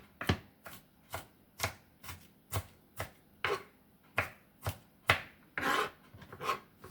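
A knife minces an ingredient for a simple dressing on a cutting board, giving about a dozen sharp, close chops in an irregular rhythm, some with brief scraping between strikes.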